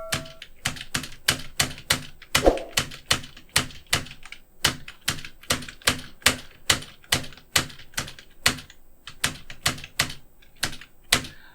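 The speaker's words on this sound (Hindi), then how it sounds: "अब हम टाइप कर रहे हैं।" Computer keyboard keys struck with caps lock on, a rapid steady run of crisp clacks, close and loud, with a brief heavier thunk partway through and no talking.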